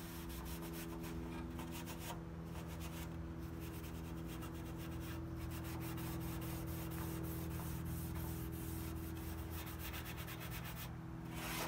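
Steel wool scrubs steadily over a car fender at home before painting, making a continuous close, dry scratching and rubbing with short rhythmic strokes.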